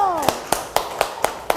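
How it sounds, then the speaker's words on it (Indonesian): In a primary school classroom, a few sharp, evenly spaced claps ring out at a steady beat, with a voice trailing off at the start and a faint background hum throughout. "Kita kasih tepuk tangan kelompok 1."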